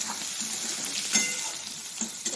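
Potatoes fry in hot oil in a pan with turmeric and salt, giving a steady close sizzle and crackle throughout, with a few brief louder pops and spatters.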